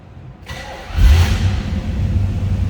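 A 1978 Chevrolet Camaro with a four-speed manual in neutral cranks briefly, catches with a loud burst, then settles into a steady, rumbling idle close by.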